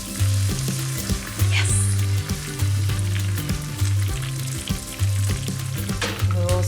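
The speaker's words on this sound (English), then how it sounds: "when you add your coconut milk, it kind of deglazes and brings out all of the flavors" Coconut milk hits a hot frying pan used for Cheerio fried chicken, hissing and sizzling steadily as it deglazes, with the bubbling continuous and close under a background of rhythmic music.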